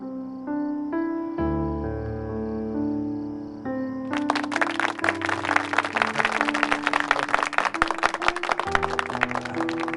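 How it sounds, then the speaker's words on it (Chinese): An audience bursts into applause for a newlywed couple on stage at a wedding, steady bright clapping entering suddenly over sustained music and continuing under it. "让我们为这对新人鼓掌吧"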